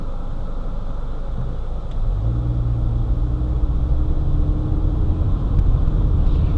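Road traffic heard from beside a street: a low engine rumble swells as vehicles pass, then holds steady and loud for several seconds with no speech.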